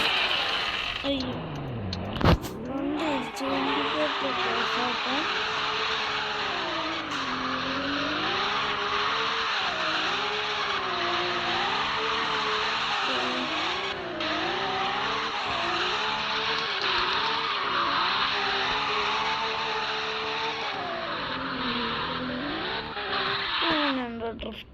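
Cars drifting with a continuous, wavering engine drone and tire squeal that rises and falls through the whole stretch, loud and close, with voices talking over it.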